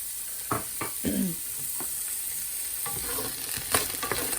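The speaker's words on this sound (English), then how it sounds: "I'm going to add in, I should say, my chopped onions" Chopped onions go into hot olive oil in a pan for a slow-cooker beef casserole, giving a soft, steady sizzle broken by a few scraping stirs, fairly quiet and close.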